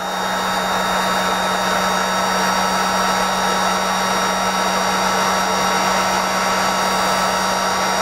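Heat gun blowing hot air over a trolling lure skirt, a loud steady roar with a constant hum that runs unbroken and close throughout.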